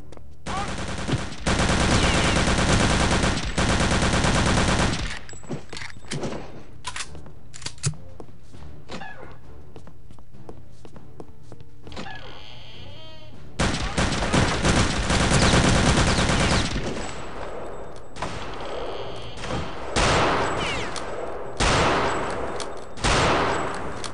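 Loud gunfire fills the PC game Return to Castle Wolfenstein, with long dense volleys at the start and again midway and scattered single shots in between.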